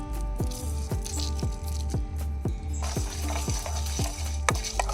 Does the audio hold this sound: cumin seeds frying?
yes